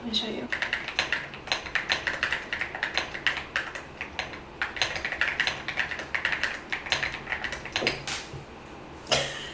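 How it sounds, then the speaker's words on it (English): Rapid, uneven clicking of keys on a computer keyboard, close up and continuous, with a brief throat sound near the end. "I bought this keyboard and it makes some really nice noises."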